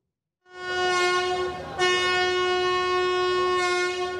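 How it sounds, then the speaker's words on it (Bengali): A passenger train sounds a loud, close horn: a sustained harmonic blast that is renewed partway through and holds steady to the end. "তবে এক আসন ফাঁকা রেখে স্বাস্থ্যবিধি মেনে শুরু হয়েছে ট্রেনের যাত্রা"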